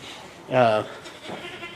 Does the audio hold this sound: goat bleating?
yes